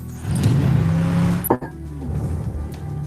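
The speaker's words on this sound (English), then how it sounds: "when you add the rest of the sounds for the car, you get a really great transition using only sound design" Car sound effects layered into a sound-design transition: a loud engine surge with a rising whine, a sharp whoosh-like hit near the middle, then a lower rumbling engine tail, with no talk.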